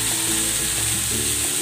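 Tokwa, pressed tofu, fries in a hot pan with a loud, constant sizzle and faint clinks and scrapes of stirring, heard up close.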